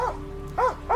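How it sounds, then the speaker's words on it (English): A police dog sent after a fleeing suspect gives three short, sharp barks with a growling edge, close and loud, spaced in a quick uneven rhythm. "With one more suspect on the run, the cops send a dog in."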